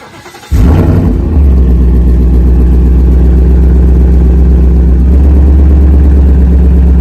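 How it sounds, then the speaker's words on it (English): Ford Mustang GT with an aftermarket Roush axleback exhaust barks to life and settles into a loud, deep, throbbing idle with a slight surge partway through, close up and alone. "this car does have an aftermarket Roush axleback exhaust, but it still makes for a pretty nasty exhaust note."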